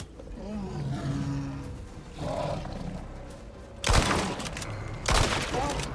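Polar bear in a video game letting out two loud roars, with gunfire-like bursts and lower rumbling sounds beforehand.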